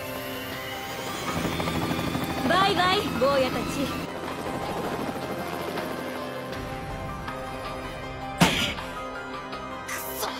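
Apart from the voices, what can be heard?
helicopter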